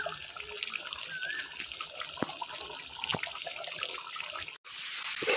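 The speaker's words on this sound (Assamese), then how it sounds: "এয়া ভাজি বৌয়ে শেষত পানী অলপমান দিলে" Frying vegetables in a pan hiss loudly and steadily after a small splash of water is added, a close, continuous rush that cuts out for a moment near the end.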